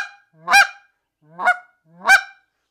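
A hand-held goose call clucks to imitate several geese at once, three separate honking clucks spaced about a second apart, loud and close with silence between them.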